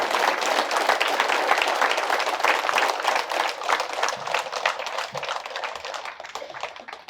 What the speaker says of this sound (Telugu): గట్టిగా చప్పట్లు కొడదాం, గట్టిగా.